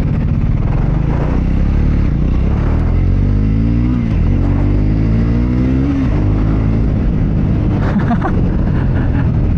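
A Triumph Scrambler 400X motorcycle accelerates up close, its engine note climbing in repeated rising sweeps as it pulls through the gears over steady road and wind noise.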